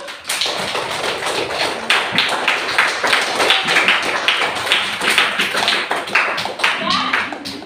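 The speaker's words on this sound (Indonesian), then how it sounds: "Biar ada tepuk tangan semuanya dulu." A group of participants at a school discussion session claps together in a dense, steady burst lasting about eight seconds, close and fairly loud, with a few voices mixed in.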